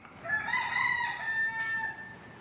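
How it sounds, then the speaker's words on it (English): A rooster crows once on a film set, a clear drawn-out cock-a-doodle-doo heard alone at moderate distance over a quiet background. "a rooster in the background kept crowing at the worst possible moments"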